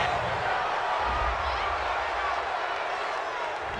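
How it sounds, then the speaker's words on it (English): In a football video game, a stadium crowd roars in reaction to a roughing-the-passer penalty call, a broad, steady wash of noise with low rumbles. "this crowd does not like that call"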